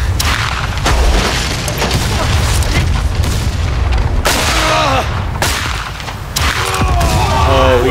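Repeated heavy ship cannon booms fire in quick succession in the game Blackwake over a constant rumbling background of game noise, with whistling projectile sounds trailing some blasts.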